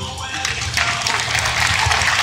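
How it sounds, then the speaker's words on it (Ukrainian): An audience claps at a women's fitness championship in Ternopil, Ukraine, in 2014: a continuous wash of hall applause, moderately loud and even, with no clear gaps. "оплески"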